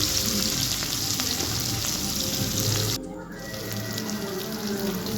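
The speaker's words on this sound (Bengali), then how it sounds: "পেঁয়াজ ভাজা হচ্ছে" Chopped onions frying in hot oil with white cumin in a pan for chicken curry, a dense steady sizzle that drops abruptly to a softer crackle partway through, close and continuous with no talk.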